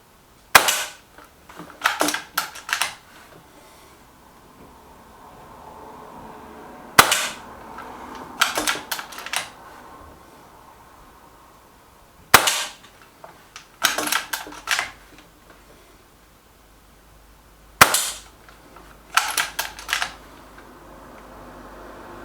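Gamo Arrow .22 air rifle firing pellets at a target, four sharp cracks spaced several seconds apart, each followed by clicking and clattering of reloading, no talk.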